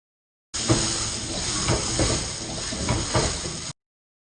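King prawns, onions and peppers fry in a pan with a steady close sizzle and hiss. Occasional soft stirring bumps break through the sizzle, and no one speaks.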